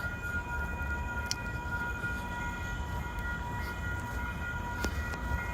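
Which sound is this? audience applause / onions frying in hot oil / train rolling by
train rolling by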